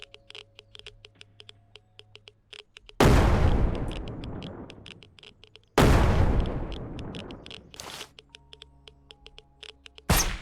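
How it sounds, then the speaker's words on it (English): Two heavy grenade blasts go off in the zombie-survival game SurrounDead, each a loud broadband boom decaying over a couple of seconds, followed by a short third burst, with quieter clicking game noise in between. "I'm just gonna use more grenades."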